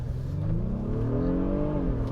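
The V6 engine of a 2025 Honda Pilot TrailSport AWD, in trail drive mode, revs up smoothly and close by. Its pitch climbs steadily and then settles, with no voices over it.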